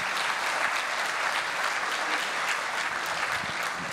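Steady, dense applause from a large audience at a national cooperative congress in 2016, filling the hall evenly for several seconds without a break and with no speech over it.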